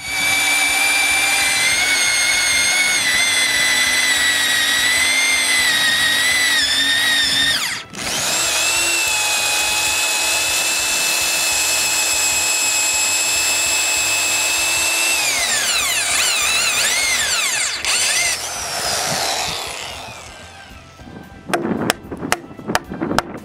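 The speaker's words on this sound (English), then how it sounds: "I drill the holes, making sure to put the spur of the bit inside each nail's hole" A power drill whines steadily as it bores holes into a wooden roof truss, pausing briefly twice, then winds down into a few sharp clicks and knocks at the end.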